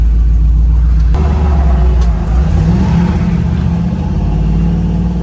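An old car's engine, driven for the first time in more than 37 years, rumbles loudly up close, then revs and climbs in pitch as it pulls away. No one speaks.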